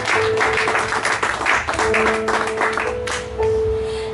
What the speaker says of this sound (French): Acclamons pour le nom de Jésus.